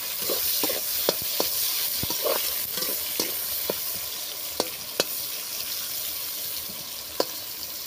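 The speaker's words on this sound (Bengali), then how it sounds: "একটা সোয়াবিন ভালো করে বেজে নেব।" Soya chunks frying in oil, a loud, close, steady sizzle broken by sharp clicks and scrapes of a spatula against the pan at irregular intervals, with no speech.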